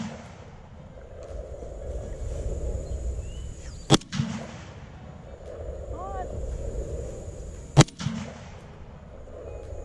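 An M1 Garand rifle fires at an outdoor range, two loud, sharp shots spaced several seconds apart over steady background rumble and wind, with a faint metallic ping after the second report.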